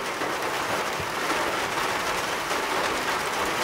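Rain falls steadily on a half-roofed bathhouse under construction, a dense even hiss of drops that holds the same loudness throughout, with no talk.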